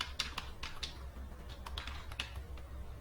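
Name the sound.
typing youtube.com on a computer keyboard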